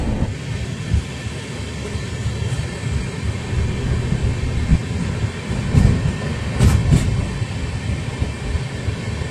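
The Darjeeling Mail, train 12343 from Sealdah to NJP, rumbles steadily along the track in a loud, continuous roar with rattling carriages and occasional clacks, heard from inside.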